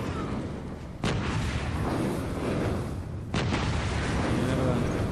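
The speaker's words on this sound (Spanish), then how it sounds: "¿Qué fue eso? Es fuego." Loud, dense Battlefield 3 gunfire and explosions fill the whole stretch, with two sharp blasts standing out near the start and about two-thirds through, over constant roaring battle noise.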